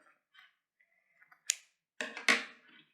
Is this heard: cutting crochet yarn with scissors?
yes